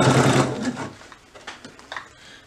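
A sewing machine stitches overlapped belt fabric pieces under the presser foot, a fast whirring run at the start that slows into a few short, quieter bursts of stitching.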